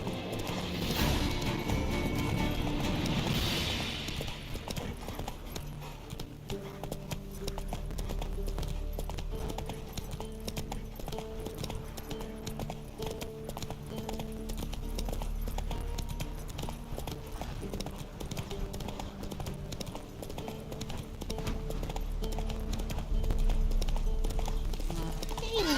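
Roach, the horse in The Witcher 3 video game, gallops on with continuous rapid hoofbeats under a background music bed, a snort or whinny near the start, the pounding steady and moderately loud throughout.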